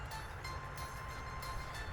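A train in a railway simulation game rolls along with a steady, dense rumble and faint rhythmic clatter, even in loudness throughout, with no voices.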